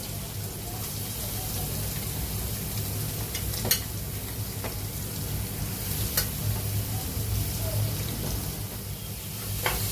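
Chopped onion with curry leaves and two green chillies sautéing in a pan for a dry chicken dish, a steady close sizzle with a few sharp clicks of a spatula scraping the pan.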